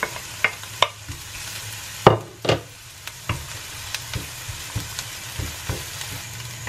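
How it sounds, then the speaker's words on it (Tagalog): Garlic sizzles in hot oil for a pancit bihon dish, with a steady frying hiss and sharp clanks from a spatula scraping and stirring the pan. The sound is close and alone, with no talking. "Ayan, medyo mainit na po yung oil natin. Lagyan na natin yung bawang."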